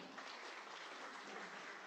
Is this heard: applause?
yes